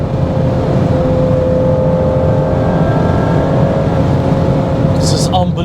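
Ferrari 812 Superfast engine at full throttle on the Autobahn, a loud, steady roar with a sustained tone and heavy road and wind noise throughout, heard from inside the car, with a brief voice near the end.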